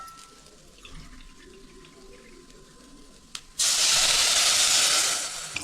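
Water pours from a tumbler into a pot of rice and vegetables for bisi bele bath, a sudden loud, bright rushing splash that starts after a quiet stretch and runs for about two seconds.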